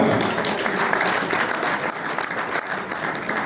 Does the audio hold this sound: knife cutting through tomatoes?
no